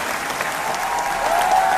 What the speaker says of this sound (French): On les applaudit bien fort